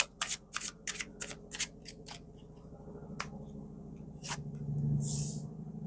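Tarot cards being shuffled, a run of crisp riffling flicks and snaps at the start that thin into a soft sliding rustle, close up and quiet with no talk.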